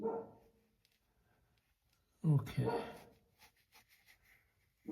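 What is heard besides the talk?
dog barking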